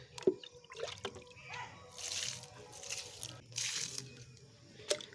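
Oil-cake water poured onto vegetable plants in a home garden: soft splashing and trickling in a few short pours, quiet and close, with faint drips between.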